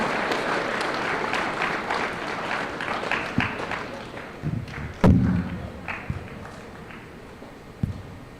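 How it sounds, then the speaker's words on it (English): An audience claps for volunteers at an arts center show, dense applause that thins out and fades over several seconds, with a few thumps and stray claps at the end. "How about a huge round of applause for our volunteers?"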